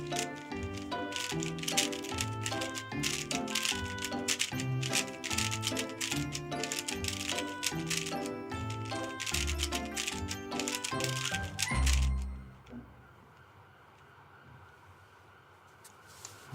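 Rapid clicking and rattling of a Rubik's cube being turned at speed during a blindfolded solve on a talent show stage, dense and continuous for about twelve seconds before stopping abruptly into quiet room ambience.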